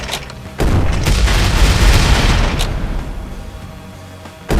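Weapon fire in the video game Quarantine Zone: The Last Check, a loud booming blast that sustains and rumbles before fading, then another sharp shot bursts in at the end.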